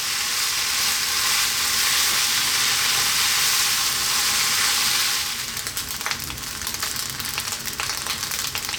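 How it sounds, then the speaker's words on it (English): Loud, dense sizzling of rice frying in a hot pan for mushroom fried rice, continuous at first, then broken up by scraping and stirring. "That's the rice frying."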